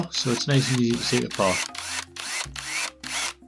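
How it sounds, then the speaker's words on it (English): A big 6mm drill bores out a small rivet on a Budgie No7 toy of the 1954 Mercedes-Benz W196R, in repeated short grinding bursts separated by brief pauses, close and loud, with someone talking over the first part. "Starting with a big drill to take the small rivet out."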